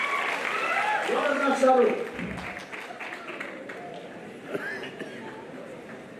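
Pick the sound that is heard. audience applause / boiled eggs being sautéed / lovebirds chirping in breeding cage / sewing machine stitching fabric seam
audience applause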